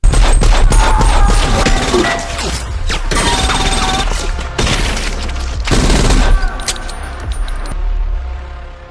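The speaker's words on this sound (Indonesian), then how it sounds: "Sampai terjadilah baku tembak." Gunfight in an action film, with dense bursts of loud gunfire, metallic clatter and booms layered over a heavy music and effects mix, surging and breaking off several times.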